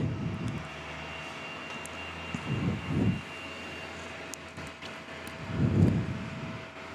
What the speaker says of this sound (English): it's time for another A330 Qantas 1303 service in from Adelaide